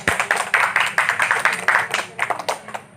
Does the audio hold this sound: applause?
yes